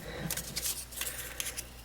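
Scissors cut strips of paper for banner flags at a stamping craft table, making several quick, crisp snips that sound close but quiet.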